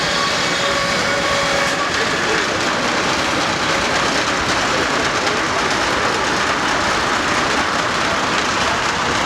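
An old tractor powering a wood planer and saw at a Michigan steam engine show, a loud continuous mechanical roar and rattle that holds steady throughout.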